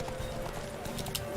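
Roach, the horse in The Witcher 3: Wild Hunt, gallops in steady rhythmic clip-clop hoofbeats over a constant game background, fairly close and moderately loud, with no voices.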